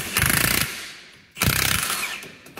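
An impact wrench hammers an axle setup nut on a Jeep Wrangler Rubicon Dana 44 in two sharp rattling bursts separated by a pause, close and loud.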